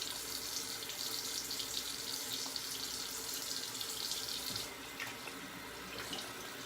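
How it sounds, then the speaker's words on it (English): Tap water runs steadily into a sink to rinse a razor while shaving, a loud close continuous rush that shifts slightly near the end as the flow changes, with no talking. "I gotta rinse off my razor."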